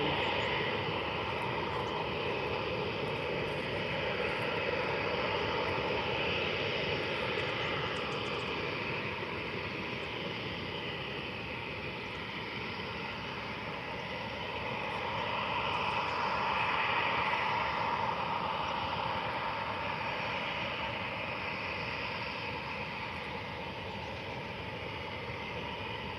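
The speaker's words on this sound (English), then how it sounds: "Here goes the TUI Blue to Frankfurt" A TUI Blue airliner departs Faro airport for Frankfurt, its jet engines roaring steadily at a distance for the whole stretch and swelling slightly as it climbs away.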